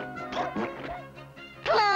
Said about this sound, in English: That dog is making me nervous.